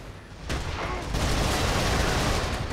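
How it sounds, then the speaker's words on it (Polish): A grenade launcher's alternate fire in the shooter game Resistance 3: a sudden loud blast followed by a second burst, then dense, continuous rumbling explosion noise filling the rest, close and without speech. "Każda broń ma swój tak zwany strzał alternatywny, który może nieźle pogruchotać kości przeciwników, na przykład taki tutaj granatniczek."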